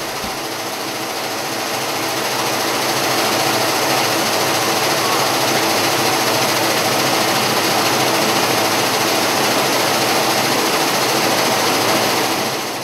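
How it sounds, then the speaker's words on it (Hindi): Dal mill pearler with an emery roller turning inside an iron mesh at 900 rpm to husk grain, a loud, steady mechanical roar with a dense rattling hiss that runs unbroken throughout. "पर्लर में घूमने वाला एमरी रोलर लगा होता है जो लोहे की जाली के अंदर 900 आरपीएम की गति से घूमते हुए दानों से छिलका पूरी तरह से अलग कर देता है।"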